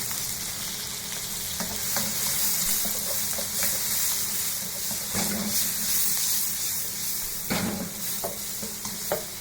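Onions hit a hot pan of Peking pork ribs and sizzle in a steady loud hiss, with occasional stirring scrapes and clacks of a utensil, close and continuous without talk.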